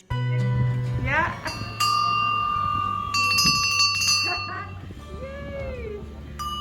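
Small bronze bells ring several times with bright, lingering metallic tones, struck one after another at close range.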